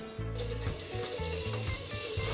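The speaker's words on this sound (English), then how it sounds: "Now I'll add some more water to it because to make sure it's covered with water so it will cook properly." Water pours into a cooking pot of breadfruit oil down in a Paramin, Trinidad kitchen, a continuous close splashing and bubbling stream with a soft sizzle, and no talking.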